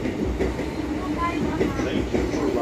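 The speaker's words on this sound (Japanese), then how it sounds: "まもなく2番線に中央特快東京行きが参ります。" A JR East E233 series Chuo Line rapid train bound for Tokyo rumbles and clatters steadily through the station at close range, loud and continuous over the short stretch.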